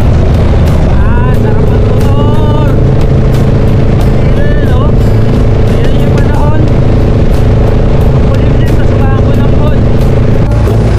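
A motorcycle engine drones loud and steady while riding on the road to Baguio in Benguet, along with rushing wind noise and voices talking over it throughout.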